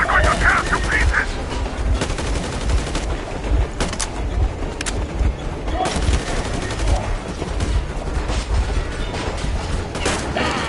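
Rapid gunfire and bursts of machine-gun shots in the video game Metro Exodus, loud and dense throughout, mixed with mechanical clatter and a brief booming impact.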